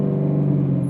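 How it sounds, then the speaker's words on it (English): Rough, lumpy idle of a modified 2007 Corvette C6 Z06 V8, a steady loud low rumble held close and alone with no voices. "just from that rough idle, you can tell this is no stock C6 Z06"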